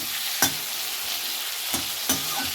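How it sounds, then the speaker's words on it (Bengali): Chopped tomatoes fry in a pan with a constant close sizzle, punctuated by three sharp scrapes of a spoon stirring. "টমেটোটা ভাজা ভাজা হয়ে গেছে"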